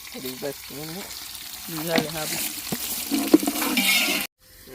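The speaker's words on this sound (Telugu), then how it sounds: "ఎర్రగడ్డలు బాగా మగ్గి గోల్డ్ కలర్ అవుతాయి." Onions frying until golden for biryani at an outdoor village party sizzle steadily in hot oil, with occasional stirring clanks and voices talking nearby.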